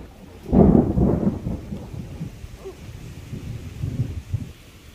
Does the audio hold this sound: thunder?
yes